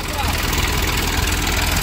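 A tractor engine drives a groundnut sieving machine, a loud, steady low throb with a rhythmic knocking pulse, close and continuous under faint background talk.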